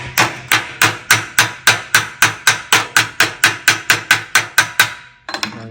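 A hammer strikes sheet metal on a 1956 Volkswagen oval window Bug, bending a flange back with about sixteen sharp, evenly spaced metallic blows, close and loud, then a brief final rattle.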